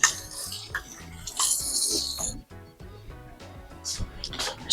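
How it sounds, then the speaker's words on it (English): Kitchen tongs are rinsed under running water at a sink, a bright splashing hiss for about two seconds followed by quieter clinks and handling, with a voice speaking nearby. "just washed my tongs"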